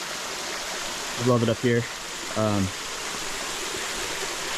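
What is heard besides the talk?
stream of fresh water along a trail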